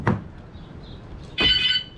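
Electric door lock actuating on a Chevrolet Agile/Montana, heard as two short, solid thunks about a second apart, close and clear against quiet surroundings.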